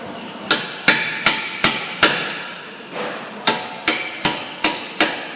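A hammer taps a Ford drive axle's splines through into place, about ten sharp metallic strikes in an uneven rhythm with a short pause in the middle, close and loud.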